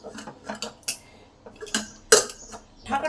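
A metal lid set onto a pressure cooker holding a whole coconut in two glasses of water, giving a few close, sharp clinks and clatters with short silent gaps between.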